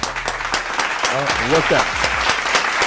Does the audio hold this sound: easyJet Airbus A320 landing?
no